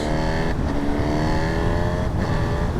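Honda Hornet SP motorcycle engine revving hard under load, a continuous loud, close howl with strong harmonics and two brief dips at gear changes.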